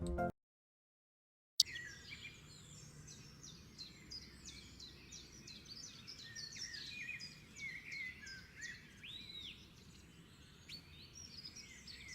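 Many birds chirp and tweet in quick overlapping calls, steady and fairly close, over a low rumbling background, with a brief silence at the start.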